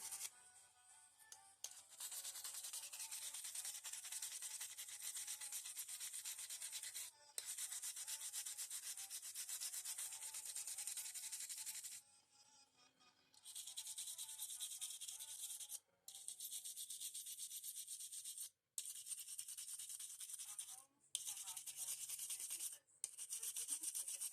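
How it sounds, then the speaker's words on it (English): Dry, raspy scratching as markings are scraped off a belt, in repeated bursts of rubbing separated by short pauses, close and fairly quiet with no talk. "I'm just scratching that markings off."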